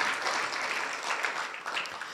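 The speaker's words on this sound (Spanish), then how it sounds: "Démosle un aplauso al Señor" Congregation applauding during a church service, a brief dense wash of clapping that holds steady for a couple of seconds, fairly close and even.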